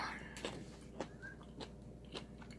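Soft, close crunches of someone biting and chewing green onion from a bowl of spicy yukgaejang beef soup, five quiet rhythmic bites spaced about half a second apart over a low steady hum.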